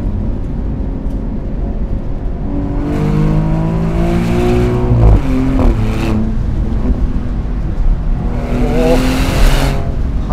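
A Maserati GranCabrio Trofeo on Pirelli P Zero tyres is driven briskly along a winding road, its engine note swelling and falling through the corners under a steady rush of wind and road noise, with no talking.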